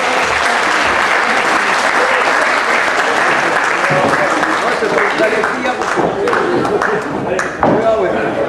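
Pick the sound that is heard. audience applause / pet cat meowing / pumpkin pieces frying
audience applause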